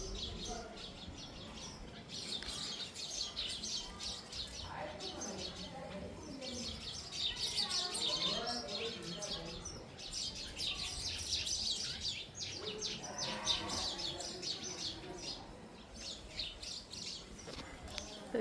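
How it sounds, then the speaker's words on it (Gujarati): Sparrows chirping in a home setting at dusk, a busy chorus of quick, fairly faint tweets in repeated bursts, with occasional soft background noise. "આની અંદર ચકલીઓ"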